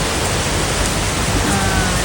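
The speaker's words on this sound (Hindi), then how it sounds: "बहुत अच्छी बारिश हो रही है, मतलब हल्की फुल्की नहीं हो रही है, अच्छी खासी तेज़ हो रही है।" Heavy rain pours down into a swimming pool as a loud, dense, unbroken hiss of splashing water filling the whole stretch.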